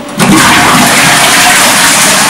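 A toilet in an apartment bathroom in Belgrade flushes via one large button, a loud continuous rush of water that starts abruptly and holds steady throughout, close and alone.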